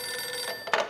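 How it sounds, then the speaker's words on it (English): A telephone rings once, briefly, in the video game Max Payne 2, a short bell-like trill rising out of a quiet hum. "Detective Winterson's phone."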